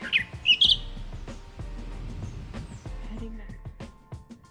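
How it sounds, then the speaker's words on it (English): A few sharp parrot squawks at the start, loud and close, near fruiting trees in Washington Slagbaai National Park, Bonaire, then fading into a busy background of rustling and distant chatter. "I think the parrots like the fruit on these trees."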